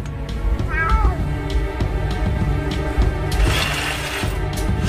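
A chausie, a jungle cat crossed with a domestic cat, gives a short meow near the start, over a loud steady background with a brief rattling, crashing noise later on.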